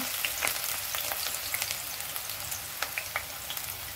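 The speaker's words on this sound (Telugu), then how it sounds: "ముందుగా మనం నూనె పెట్టుకున్నాం కదండి, ఉల్లిపాయలు వేసుకుందాం." Sliced onions sizzle and crackle steadily in hot oil in a home kitchen pan, a continuous close frying hiss with occasional sharper pops and no voices.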